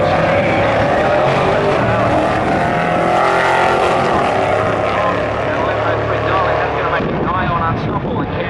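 A 1.7 litre HSV GTS drag car with leaf spring suspension roars down the strip at a drag racing event, a loud continuous engine howl that holds steady and shifts near the end, with a commentator talking over it.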